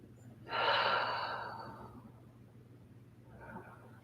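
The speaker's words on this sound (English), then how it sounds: "But again, inhaling on one pose," A deep, audible breath during a floor yoga exercise, one long loud inhale-exhale fading out, then a softer second breath, close to the mic with no talking.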